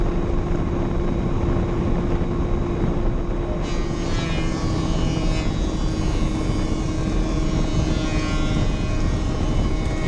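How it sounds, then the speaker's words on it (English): A bathroom inline exhaust fan mounted on a 100mm tube and working as a cyclone dust extractor runs steadily, a loud continuous whooshing hum with a tonal drone, unbroken throughout with no talking. "Put the inline fan on top of a 100mm tube and you're ready to go."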